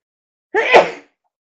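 One quick, close sneeze, a short breathy burst rising to a sharp peak and fading within about half a second, alone in silence.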